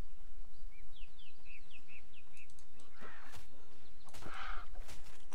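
Cartoonish bird chirps from the Titan Quest Anniversary Edition video game, a rapid descending series of short calls followed by a louder squawking burst, over a constant game ambience with footstep-like noises.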